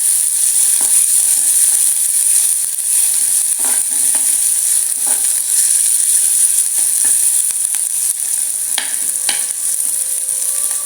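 Oil sizzles steadily in a pan while cooking Sri Lankan mango curry, a loud, continuous frying hiss with occasional soft scrapes and taps of a stirring utensil.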